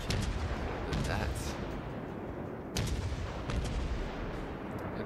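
Heavy cruiser Takao's naval guns fire in the game World of Warships: dense, rumbling booms and repeated gun blasts, with sharper reports near the start and around the three-second mark, over continuous loud battle noise.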